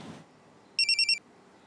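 A telephone rings in a quick burst of four electronic trills, clear and fairly close, after a brief muffled noise at the start.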